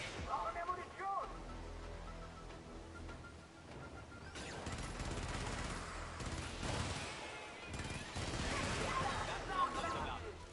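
Gunfire and explosions from the video game Helldivers: dense fusillades and crashing blasts rolling on and off over about ten seconds, with voices shouting over the chaos.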